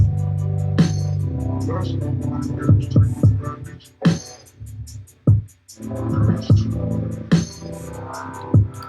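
A gritty, distorted drum beat thumps in a steady groove, with punchy kicks and snare hits carrying a saturated hum from Ableton's Overdrive set to 10%.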